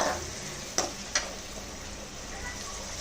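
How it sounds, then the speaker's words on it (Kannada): Onions fry in hot oil until reddish for spicy egg rice, giving a continuous sizzle with two sharp stirring clicks early on, close and moderately loud. "ಈರುಳ್ಳಿನ ಚೆನ್ನಾಗಿ ಸ್ವಲ್ಪ ಕೆಂಪಾಗೋ ತನಕ ಫ್ರೈ ಮಾಡ್ಕೊಳ್ಳೋಣ"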